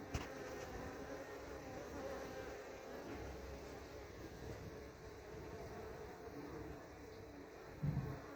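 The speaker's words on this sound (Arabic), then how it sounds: "هذا النحل جاي يجيب حبوب اللقاح" Honeybees gathering pollen hum in a steady, faint buzz that runs unbroken throughout, with a slightly louder rise near the end.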